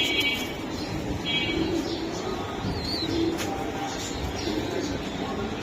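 Racing pigeons at a breeding farm coo softly and repeatedly in the background, set against a busy, noisy room with faint chirps.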